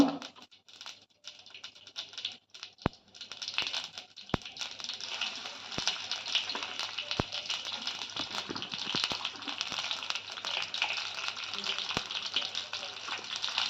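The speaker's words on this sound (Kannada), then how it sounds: "ಜೀರಿಗೆ ಸಿಗಿತಾ ಇದೆ" Cumin seeds sizzle steadily in hot oil in a home kitchen, a dense continuous frying hiss with crackling spatter that builds after the first few seconds and holds loud and close, with a few sharp clicks of a utensil.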